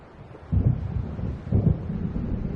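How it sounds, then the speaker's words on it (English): Low rumbling thunder of an approaching storm over the sea in the Alan Wake video game, two heavy rolls swelling about a second apart over a steady dark drone, with no voices. "It seems there's a storm coming."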